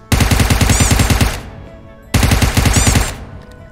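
VSS suppressed sniper rifle firing in PUBG Mobile: two loud, close bursts of rapid mechanical shots about two seconds apart, each lasting over a second with a brief metallic ring, no talk.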